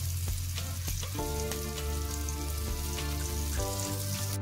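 Spicy masala prawns fry on an oiled iron tawa with a steady, close sizzle and fine crackling throughout, accompanied by a low hum in the background.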